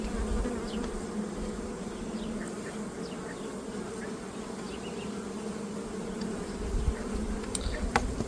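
Honey bees crowding plastic comb frames in a hive, a dense continuous buzzing hum with a few individual bees droning closer now and then.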